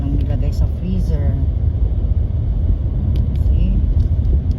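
A car drives slowly along a snowy road in Ontario after a snowstorm, its low, steady rumble loud and close, with a person talking over it.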